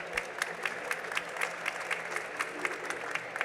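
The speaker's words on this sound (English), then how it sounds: "a big round of applause for our panelists." An audience at a Web3 conference panel discussion in Barcelona applauds the panelists, a fairly faint, even patter of clapping from a crowd with light rhythmic peaks.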